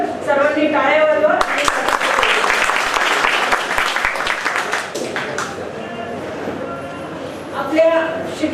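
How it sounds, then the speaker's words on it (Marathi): An audience at a high school alumni get-together bursts into applause, a dense patter of clapping for several seconds that fades out, with a speaker's voice before and after. "सर्वांनी टाळ्या वाजवा."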